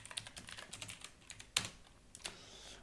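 JavaScript code being typed on a computer keyboard, a quick run of close key clicks with a couple of louder strikes near the end, heard alone without talk.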